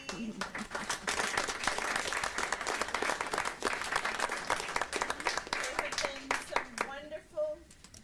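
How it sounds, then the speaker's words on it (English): Sustained applause from a crowd at a city council meeting, dense clapping throughout that thins toward the end. "I just want to give them a round of applause"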